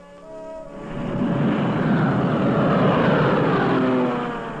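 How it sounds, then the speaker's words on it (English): Allied propeller-driven reconnaissance planes of WWII droning overhead, a loud, steady engine roar that swells in, holds for several seconds and eases slightly at the end. "Day after day, the Allied reconnaissance planes scoured the European continent."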